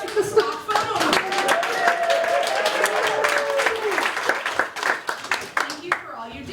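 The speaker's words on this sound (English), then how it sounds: "The applause for the stock photo model." A round of applause from a modest group for a stock photo model, brisk clapping with distinct individual claps under overlapping speech, thinning toward the end.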